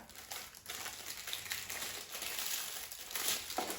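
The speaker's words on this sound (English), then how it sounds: "We're going to remove all the packaging." Crinkling plastic wrapping being peeled off a frozen Hot Pocket, a steady close rustle and crackle lasting a few seconds with no talking.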